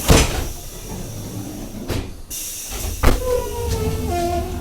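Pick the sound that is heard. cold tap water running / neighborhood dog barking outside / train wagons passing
train wagons passing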